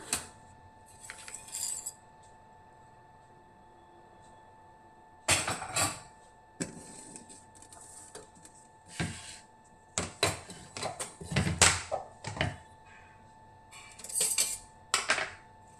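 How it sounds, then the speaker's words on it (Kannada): Green chilies, curry leaves, garlic, ginger and spinach are chopped on a kitchen board, with scattered sharp knife taps and clattering bursts separated by quiet pauses. "ಹಸಿಮೆಣಸಿನ್ಕಾಯಿ, ಕರಿಬೇವಿನ ಸೊಪ್ಪು, ಬೆಳ್ಳುಳ್ಳಿ, ಶುಂಠಿ ಮತ್ತು ಪಾಲಕ್ ಸೊಪ್ಪನ್ನು ಸ್ವಲ್ಪ ಕಟ್ ಮಾಡಿ ಹಾಕ್ಕೊಳ್ಳೋಣ"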